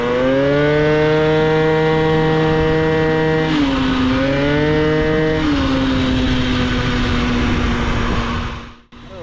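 A speed-restricted moped engine held at full throttle, a loud, steady high-pitched buzz that dips and recovers briefly before cutting off near the end, with no talking.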